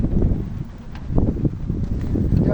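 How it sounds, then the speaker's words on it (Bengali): Strong wind gusting by the Bhairab river in rural Bangladesh, a steady low roaring buffet on the microphone with rustling trees along both banks, continuous and fairly loud throughout. "অনেক বাতাস"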